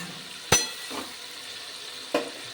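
Papaya and fish curry sautéing in a pan gives a low, steady sizzle broken by a few sharp clinks of a spatula against metal, close by and without speech.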